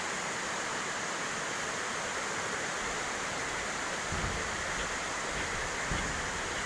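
Waterfall, a steady broadband rush of falling water, constant and fairly distant with no voices.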